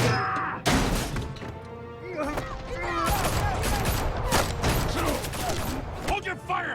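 Volleys of gunfire and crashing impacts in Batman: The Telltale Series Season 2, loud bursts mixed with shouting voices and talk over the action.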